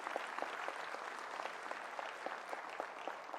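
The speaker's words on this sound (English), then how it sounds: "Please give them a big round of applause." Audience clapping steadily at a Howard University Charter Day convocation, a dense, even patter of many hands with a few sharper claps standing out, fairly faint and distant, no voices.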